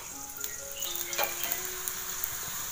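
Ghee poured beside a paratha on a still slightly cool griddle gives a soft, continuous hiss of frying, fairly quiet, with faint clinks and no voices.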